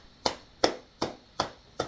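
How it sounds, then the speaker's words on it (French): A single person clapping hands five times at a steady, slightly slow pace, each clap sharp and fairly close, with quiet room tone between and no talking. "Non, j'applaudis."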